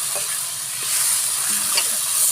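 Potatoes sizzle in hot oil as a spicy fry is stirred, giving a steady, close frying hiss with a few soft scraping strokes of stirring, and no talk.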